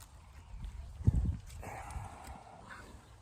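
A horse shifts its weight and steps, its hooves landing in a cluster of dull, close thuds and clops near the middle, with quieter rustling movement before and after in a calm outdoor setting.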